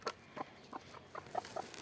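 A brooding hen on a farm gives a handful of soft, short clucks in a loose rhythm, quiet and close, with no other sounds around.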